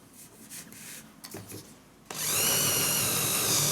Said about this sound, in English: Let's just drill a hole